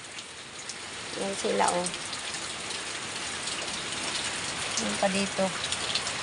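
Steady rain falls during a typhoon onto a yard with potted plants, a constant broadband hiss of drops on surfaces throughout, while someone speaks briefly over it.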